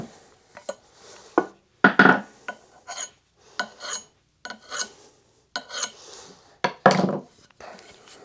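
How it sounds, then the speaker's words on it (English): A hone worked by hand against a sharpened axe blade, a series of short, dry rasping strokes in an irregular rhythm with brief pauses between, close and fairly quiet. "you can put a hone against it"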